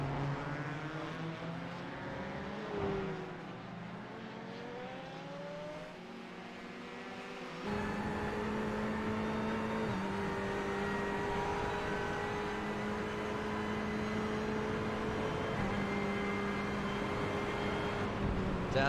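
GTE race cars lapping Le Mans in the iRacing sim, heading toward Arnage: a sustained, loud engine drone with shifting pitch that jumps louder partway through as another car closes in.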